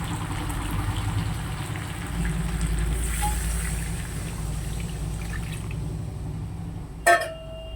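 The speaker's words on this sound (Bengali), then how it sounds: "জল দিয়ে দিলাম।" Water poured into a pan of chicken curry, a steady close trickle running for several seconds beneath a low simmering rumble, ending in a brief sharp clink.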